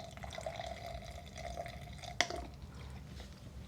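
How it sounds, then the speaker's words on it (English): Warm water runs and drips into a container of dog shampoo mix, a faint steady trickle with a single sharp clink midway, quiet and close. "Add warm water, not cold water, warm water."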